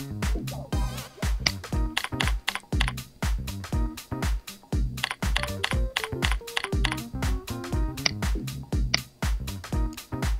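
An email address typed on a computer keyboard while setting up a corporate mail account in IncrediMail: quick, irregular clusters of close, crisp key taps with short pauses, over a light tonal background and with no talking.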